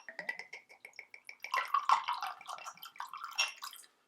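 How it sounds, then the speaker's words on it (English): Bourbon whiskey spills unevenly from an awkward bottle in a run of glugging, gurgling bursts that speed up, then trail off in a few drips, close and fairly clear. "Quite difficult to pour out of this bottle, it kind of wants to spill."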